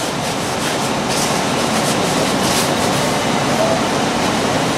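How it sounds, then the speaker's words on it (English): A home heating system runs in the background on a cold morning, giving a steady, even broadband whoosh that stays constant throughout without breaks or voices. "You can hear the heat running in the background."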